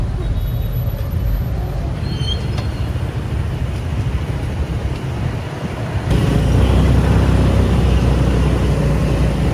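Heavy traffic jam in Ho Chi Minh City during Tet, heard from a motorbike: a loud, continuous engine and road rumble that swells louder partway through, with indistinct voices mixed in.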